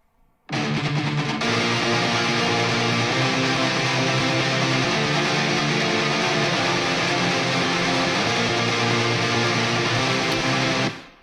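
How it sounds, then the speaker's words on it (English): Several distorted, chorus-effected electric guitars are stacked and played together, a dense, loud and sustained wall of sound that starts abruptly and holds steady for about ten seconds before cutting off. "This is like the distorted chorus guitar."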